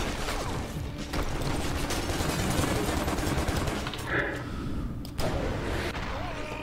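Gunfire from sniper and other weapons in John Woo Stranglehold, with sharp, loud shots and mechanical clatter spread irregularly over a busy game soundscape.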